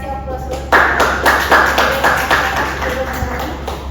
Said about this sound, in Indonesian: Oke, kita kasih aplaus dulu.